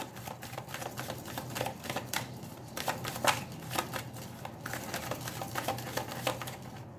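Tarot cards are shuffled and drawn in a dense run of crisp riffles, flicks and card snaps, up close and fairly quiet, with no voices.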